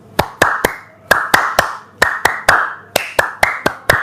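Sharp hand claps in uneven bursts of two and three, about a dozen in all, close and crisp with short pauses between groups.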